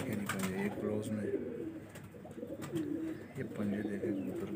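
A domestic pigeon kept by a pigeon fancier coos nearby in repeated low, throaty phrases over a soft background with faint voices.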